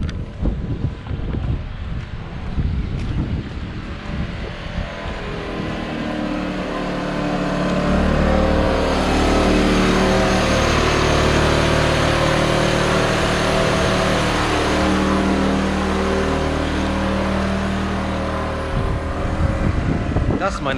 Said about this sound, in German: ist unser Notstromgenerator, ein kleiner. Der läuft.